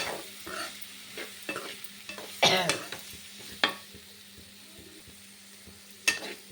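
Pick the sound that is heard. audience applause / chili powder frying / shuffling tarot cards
chili powder frying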